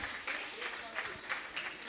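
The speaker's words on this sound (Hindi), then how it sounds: "एक बार जोरदार तालियां हो जाए।" Audience applause at an Arya Samaj youth wing New Year program, a steady patter of clapping with voices mixed in throughout.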